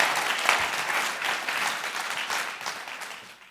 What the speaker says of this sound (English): Another big round of applause for Otobong.